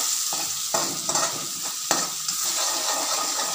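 Green chillies, curry leaves, salt and turmeric sizzle steadily in a hot pan while a utensil stirs and scrapes in several distinct strokes, close and fairly loud with no talking.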